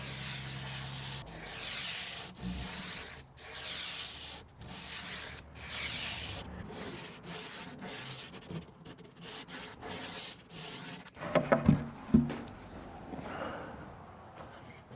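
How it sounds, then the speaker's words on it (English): Sandpaper lightly scuffing a flush plywood surface on a plywood Murphy bed cabinet, a soft, steady rubbing that comes in repeated strokes, close by, ending with a few louder knocks. "Take my sandpaper and just barely scuff up"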